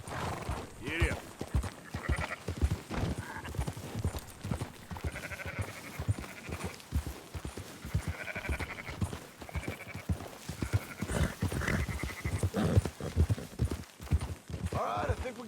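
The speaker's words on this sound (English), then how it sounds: "Marston, why don't you leave the sheep to me?" Sheep bleat repeatedly from a Red Dead Redemption 2 ranch scene while livestock is rounded up, with clip-clopping hooves and talk throughout.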